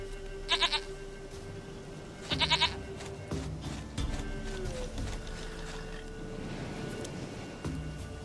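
Goat bleats in The Witcher 3, two short wavering bleats close by, set over a low ambient game background with faint clatter.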